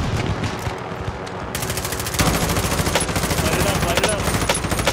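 Rapid automatic gunfire from the video game Call of Duty Warzone crackles continuously, a dense volley that grows louder and heavier partway through, with no talk over it.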